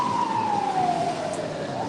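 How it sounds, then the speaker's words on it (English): An emergency siren from a fire truck or ambulance, a single loud sustained wail gliding slowly downward in pitch, close and continuous over faint street noise, with no one talking. "Fire trucks, ambulances."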